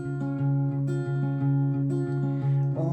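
Guitar plays the chorus of a song, sustained ringing chords with a few steady strummed changes, close and clear with no voice.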